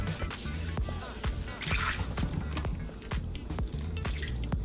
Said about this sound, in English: We're going to discard all this liquid here in the sink